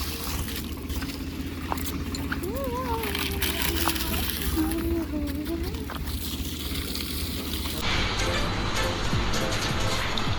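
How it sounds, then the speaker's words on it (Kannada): Water gushes and splashes steadily onto the ground nearby around coconut plants in a garden while a voice talks over it, the flow continuing throughout. "ಈಗ ತೆಂಗಿನ ಗಿಡಕ್ಕೆ ನೀರು ಬಿಡ್ತಾ ಇದ್ದೀರಿ"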